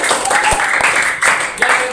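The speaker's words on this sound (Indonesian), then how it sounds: "tepuk tangan dulu." Children in a primary school classroom clap together at a teacher's prompt, giving uneven bursts of applause with people talking through the clapping.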